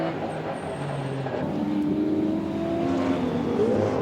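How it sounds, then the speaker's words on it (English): Onboard a Nissan GTR touring race car at Oran Park in 1991, the engine drones loud and steady as it pulls through early gears, pitch climbing and dropping with each shift. "That's Mark grabbing early gears there and trying to minimise the amount of wheel spin."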